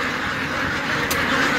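Ducks quack together in a noisy flock on a large duck farm, a dense overlapping chorus of calls close by with no talking.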